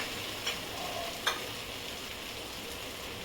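Sweetcorn with masala being sautéed in a pan for a spiced vegetable dish, producing a soft, even sizzle with two brief sharp clicks of a spoon, close and fairly quiet.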